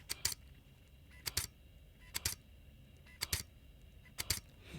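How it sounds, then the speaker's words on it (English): An OM-3 camera's shutter fires five times at roughly one-second intervals, each a crisp, quiet double click close to the microphone against near silence. "I really love that shutter sound"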